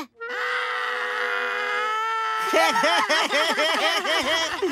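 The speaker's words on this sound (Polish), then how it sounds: "Następny jest krzyczący kot" A cat lets out a long, strained scream, then breaks into rapid, wavering yowls, loud and close.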